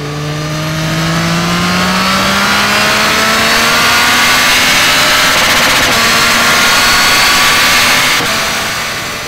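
A 2023 Yamaha MT-09 SP motorcycle's engine climbs steadily in pitch as it revs hard under acceleration, loud and continuous with wind rush, then eases off briefly near the end.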